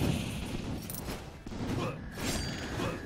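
Enemy gunfire in the video game Rogue Legacy, a dense, continuous crackle of shots and impacts running the full length at moderate level, with no talk over it.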